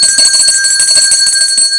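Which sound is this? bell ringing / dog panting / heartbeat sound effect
bell ringing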